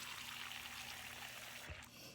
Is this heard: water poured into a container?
yes